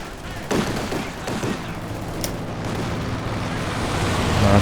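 Gunfire from a strafing run in Company of Heroes 2 sounds as a sustained, rumbling battle din with a few sharper cracks standing out, fairly loud and growing toward the end, with no speech.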